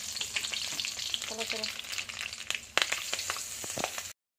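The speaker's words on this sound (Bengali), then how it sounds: "তেলের মধ্যে দিয়ে দেবো কাঁচা লঙ্কা ফাটিয়ে দেবো ফোড়নে, আর দেবো কালো জিরা।" Green chillies and black cumin (kalo jeera) crackle and splutter in hot oil in a kadai, a close, busy sizzle with sharp pops and a few scraping stirs, no voices.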